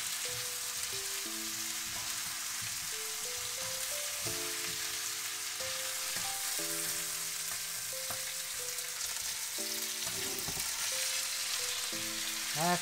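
Chicken guisado sizzles in a pan while being mixed, a constant close frying hiss with occasional scrapes, under faint tonal background music.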